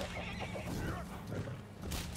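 A horse in the samurai-era action game Rise of the Ronin, during the Battle of Toba-Fushimi, lets out a loud, drawn-out whinny over a dense, noisy battlefield background with faint hoof clatter.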